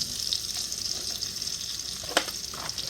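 About five ounces of mushrooms frying in a pan for chicken marsala, giving a steady close sizzle with a brief clatter of stirring partway through.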